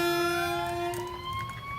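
A fire truck siren wails steadily through the whole stretch, loud and close with sweeping tonal harmonics, over a low rumble of traffic and no talking.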